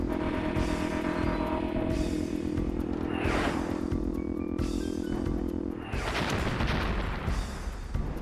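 Explosion sound effects in the video game Dark Cloud, several loud bursts going off one after another with crackling blasts and rumble under steady background game noise.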